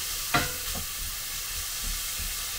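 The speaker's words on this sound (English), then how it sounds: "So what I'm going to do is just carry on frying this." Pork frying in oil in a pan gives a steady, soft sizzle with a few brief stirring scrapes near the start, close by and with no one talking.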